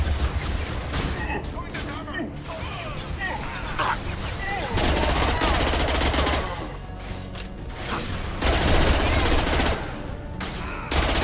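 Sustained automatic gunfire and heavy blasts from the video game Mass Effect Legendary Edition run through the whole stretch, dense and close, with surges of louder volleys and speech mixed underneath.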